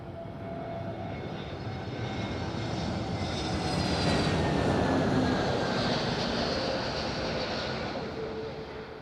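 A jet airliner lands at Madeira Island Airport, its engine roar swelling to a loud peak midway and then holding as a broad, rushing drone with no voices.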